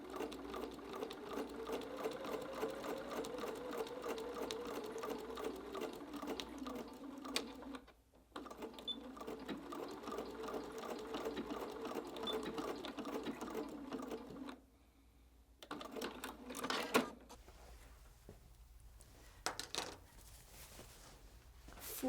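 A sewing machine stitches a jelly roll tote strap, running at a soft, steady whir in long stretches broken by short pauses, with faint handling noises near the end.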